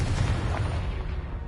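A Confringo fire spell explodes in Hogwarts Legacy on PS5, a single booming blast with a deep rumbling roar that tails off over a second and a half.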